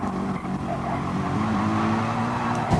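A GT race car losing traction and skidding in a racing game on the Sardegna circuit, engine roaring with sustained tire squeal, loud and continuous as the car slides across the track.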